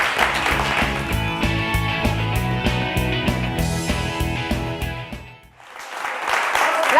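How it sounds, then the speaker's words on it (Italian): Studio audience applause on an Italian TV quiz show, mixed under rhythmic theme music that fades out, leaving a short burst of clapping alone at the end. "Andiamo in pubblicità con l'applauso."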